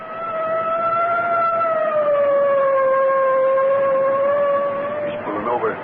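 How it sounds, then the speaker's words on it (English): Car siren in a 1944 old-time radio drama, a loud wailing tone that holds steady and sags slightly in pitch for several seconds before breaking off at the end. "I guess it's time to sound the siren."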